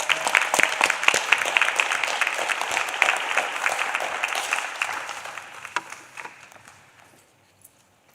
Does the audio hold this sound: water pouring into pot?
no